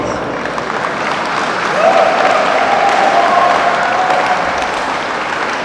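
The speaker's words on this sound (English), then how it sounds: "a big round of applause, please." Loud, dense applause from a standing crowd at the closing ceremony of an inter-district and state open badminton championship. The clapping forms a continuous roar, with a steady tone running through the middle and faint voices in the crowd.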